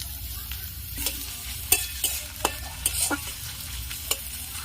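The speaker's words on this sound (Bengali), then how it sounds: "পেঁয়াজ কুচানোটা দিয়ে দেবো।" Chopped onion frying in oil in a wok (kadai) for Maggi noodles, a steady close sizzle broken by scattered scraping stirs and clinks of a spatula, with no voices.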